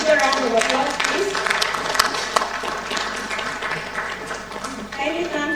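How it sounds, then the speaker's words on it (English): Audience applause fills a Women's Day celebration hall, a steady wash of clapping with crowd chatter and voices mixed throughout, fairly loud and continuous from start to end. "A big round of applause, please."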